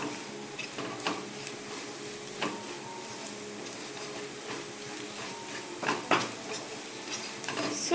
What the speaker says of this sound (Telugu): సో ఇది ఒక టెన్ ఫిఫ్టీన్ సెకండ్స్ ఫ్రై అవ్వనివ్వాలి పిండిని